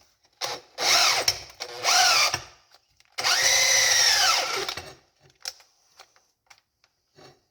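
A cordless power drill whirs into wood in three bursts, two short and one longer, close up, with the pitch sagging under load, followed by faint clicks.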